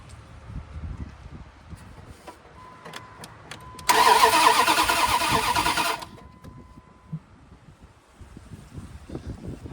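A Dodge Dakota's starter cranks for about two seconds without the engine catching. The whirring burst is loud and close against quiet surroundings, with faint clicks before and after.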